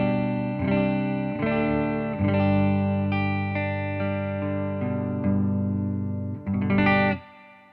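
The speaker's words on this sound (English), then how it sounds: "That's that signature Fender spring reverb." Heritage H535 semi-hollow electric guitar, an ES-335 style model, played through a Fender spring reverb: a handful of strummed chords and notes, each with a splashy reverberant decay, loud and close, with no voices.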